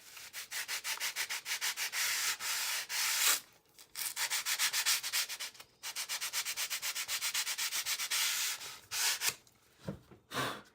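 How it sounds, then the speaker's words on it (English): Emery board rubbed along the edge of a vintage children's book's cover board during repair; close, rapid rhythmic rasping strokes in long runs, broken by brief pauses and a few final scrapes, with no talk. "sand that edge just a little bit"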